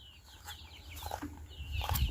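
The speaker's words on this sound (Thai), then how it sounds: "ไก่ที่ลงกินข้าวแมว" Chickens eating cat food cluck in short, close bursts against a low background rumble, growing busier toward the end.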